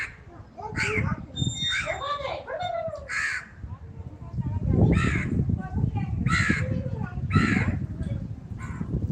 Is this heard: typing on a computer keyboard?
no